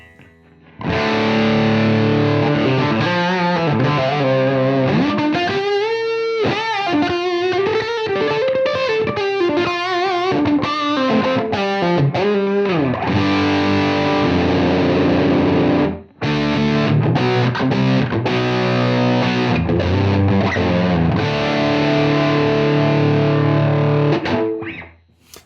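Electric guitar through a UAFX Lion '68 Super Lead amp at full gain with boost, loud and close, playing distorted riffs and sustained bends, with a short gap midway before continuing.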